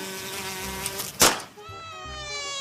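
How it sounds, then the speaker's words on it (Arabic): A housefly buzzes in a room, a thin whining drone with rising and falling pitch that swells close by, punctuated by a sharp brief knock midway, then keeps buzzing nearby, with no talking. "دي دبانة موتها بتضايقني"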